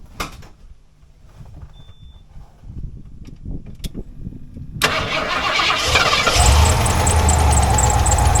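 A pickup truck engine fires up after a few seconds of quiet handling noises, catching into a loud, steady running roar that holds close by until the end.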